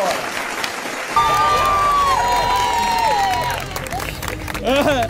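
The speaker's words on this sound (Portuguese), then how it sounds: "Uma salva de palmas aí, viu?" Audience applause and cheering for a finalist in a contest with a BMW Z4 as the prize, a sustained burst of clapping and crowd noise with a whistle-like cheer through the middle, fading and then swelling again at the end.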